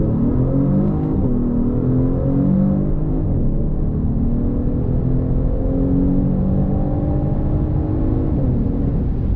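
A 2022 Genesis G70 with a 3.3-liter twin-turbo V6 drones steadily under load, a smooth, harmonic engine note whose pitch rises and falls, close and fairly loud inside the car.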